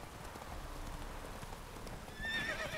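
The horse Roach in The Witcher 3 video game clip-clops along at a steady walking pace, then gives a short whinny near the end, quiet and without speech.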